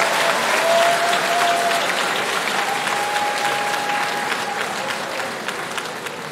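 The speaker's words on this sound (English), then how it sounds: "Please give yourselves an applause." Steady applause from a large crowd at a university graduation ceremony, continuous clapping that fades slightly toward the end.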